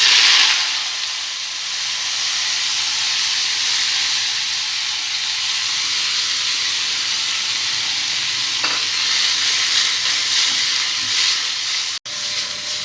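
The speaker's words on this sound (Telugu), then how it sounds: "ఎండుమిర్చి ఫ్రై చేసుకున్న తర్వాత ఇదే ఆయిల్లో పుదీనాను కూడా ఫ్రై చేసుకోవాలి." Mint leaves frying in hot oil after dried red chillies, a steady bright sizzle and hiss that carries on for the whole stretch, with a few small pops and a brief clink near the end.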